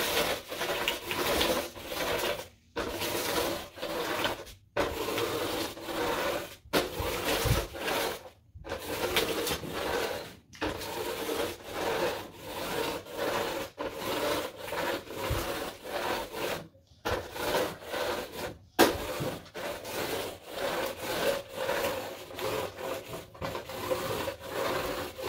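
A Bissell Gemini carpet sweeper pushed back and forth over carpet, giving a continuous rolling, brushing rasp with brief pauses at each change of direction, fairly quiet and close.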